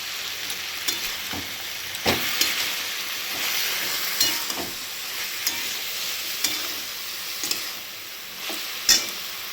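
Banana flower curry with garam masala being stir-fried in a pan, a soft continuous sizzle broken by scattered scraping knocks of the spoon against the vessel, close by and moderately loud, with no talking.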